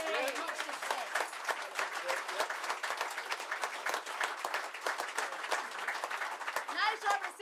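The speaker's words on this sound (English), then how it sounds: "deserves a round of applause and much respect" Sustained applause from a large audience at a book roadshow event in Coatbridge, dense steady clapping filling the whole stretch with a few cheers mixed in.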